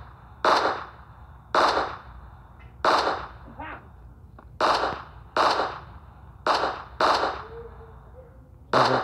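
Gunfire in the video game PUBG, eight loud, sharp shots fired singly at roughly one-second intervals, each a crisp crack with a short tail, over a faint steady background.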